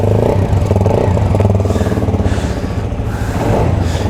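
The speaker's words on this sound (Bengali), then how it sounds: "অনেক বড় ইঞ্জিন একটু সাউন্ড দিয়ে শোনায়" A CFMoto 250CL-C motorcycle engine runs close by with a loud, throbbing exhaust note, revving up and easing back in a few pulsing surges.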